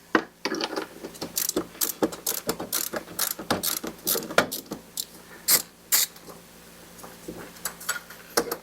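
A ratchet clicks in quick bursts while loosening the negative battery terminal on a 2019 Honda Passport, with close, crisp pawl ticks in uneven runs and short pauses between them.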